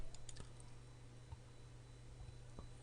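Typing on a computer keyboard, a few faint, sparse key clicks over a low steady hum, quiet and close with no voice.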